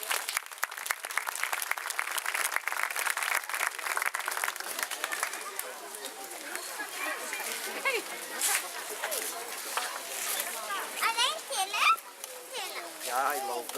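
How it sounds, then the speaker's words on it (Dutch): Audience applause at the start of a Lion King musical at Beringerzand, steady clapping that softens midway as children's voices and crowd chatter rise over it. "En dan wil ik graag nog een applaus vragen voor het begin van de musical The Lion King."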